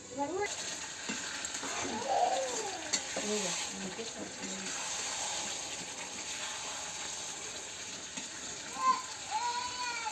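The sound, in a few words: stirring chicken curry in a pan on a clay stove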